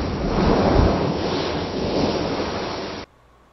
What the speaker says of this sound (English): So waves crashing on the shore.